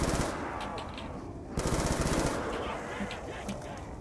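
A semi-automatic gun in Call of Duty on the Nuketown map fires in rapid, loud bursts, with a short pause between volleys.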